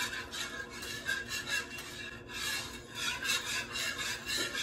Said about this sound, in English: I'm going to whisk this together because I want to go ahead and melt that ghee